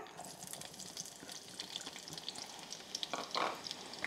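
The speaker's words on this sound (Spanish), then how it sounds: "Cuando ya está caliente vamos a ir añadiendo la cebolla" Onion added to about four spoonfuls of hot olive oil in a large pan, a faint, sputtering sizzle with a few louder crackles toward the end, no voices.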